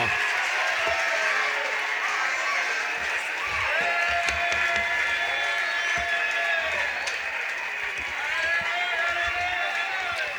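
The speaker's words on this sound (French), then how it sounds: "Applaudissez très fort." A church congregation applauds loudly, sustained clapping mixed with cheering and crowd voices that run through the whole stretch without a break.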